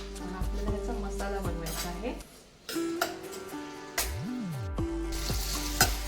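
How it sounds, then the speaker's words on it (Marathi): Chopped onion sizzles and crackles steadily in a hot pan for a cashew curry, with a voice speaking over the frying throughout. "आधी आपल्याला हा कांदा थोडा फ्राय करून घ्यायचा आहे"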